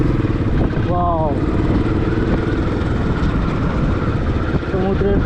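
A motorcycle rides along the coast road beside the Arabian Sea near Kozhikode, Kerala, its engine a loud, continuous close drone with heavy wind rush and people talking over it.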